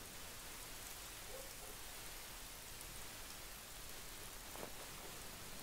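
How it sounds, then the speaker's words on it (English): Steady rain falls on a beach in the video game Just Cause 3, in a continuous hiss, with scattered drops pattering on surfaces throughout. "And it's raining. Why is it raining?"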